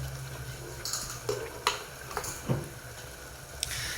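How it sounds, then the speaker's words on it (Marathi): Spices being stirred into hot oil in a pot while making pav bhaji, heard as a few soft scrapes and clinks of a spoon against the pot over a low, steady sizzle, close by with no talking. "नंतर या पातेल्यामध्ये सगळे मसाले एकजीव करून घ्यायचे"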